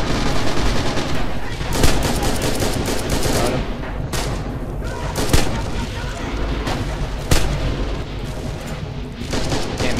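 Loud, dense gunfire with repeated sharp bursts and booming blasts, continuous throughout, with a voice occasionally audible beneath the chaos, in the video game Rising Storm.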